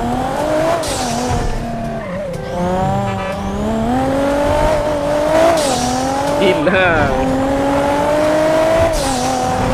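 Supercharged car engine in the GTA V video game revs and whines continuously with rising and falling pitch, with brief tyre squeals, while voices talk over it throughout.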